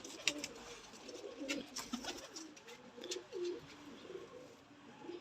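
A breeding pair of Ferozpuri pigeons coos softly and faintly, with low murmuring calls and a few brief chirps scattered through the quiet background.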